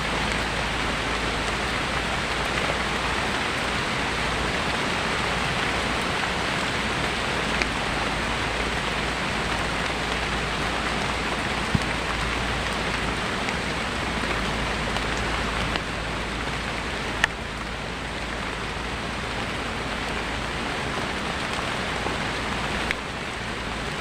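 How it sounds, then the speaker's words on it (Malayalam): Heavy rain falls in a dense, unbroken hiss that stays even and loud from start to finish, with no voices. "കോട്ടിട്ട് വീഴുന്ന മഴയും തോന്നുന്നു"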